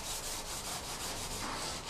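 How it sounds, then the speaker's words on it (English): A blade scraping baked-on grease off the front of an oven, a steady continuous rasping rub with slight rhythmic strokes, close and alone without talk. "I'm just going to lightly blade it off, just to show you how easy it is."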